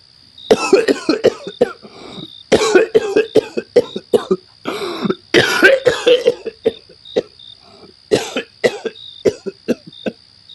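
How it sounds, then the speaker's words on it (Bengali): A man coughs repeatedly in harsh, rapid bursts with brief pauses between fits, close and loud, while a steady insect chirp hums in the background. "ঘরের একপাশে ঘুমিয়ে থাকা সেই লোকটার কাশি শুরু হলো"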